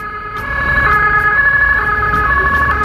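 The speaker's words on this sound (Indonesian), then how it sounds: "mohon maaf ya, ada ambulan lewat." An ambulance siren wails loudly and steadily over low road rumble on a toll road construction site, holding close and strong for the whole stretch.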